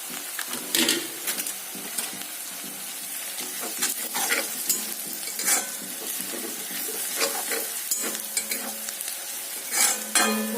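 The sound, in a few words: cumin sizzling and being stirred in hot oil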